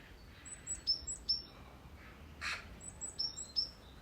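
A corvid, a relative of ravens and crows, calls in a garden with faint, far-off, repeated short cries over quiet background hiss, with higher chirps from other small birds around it.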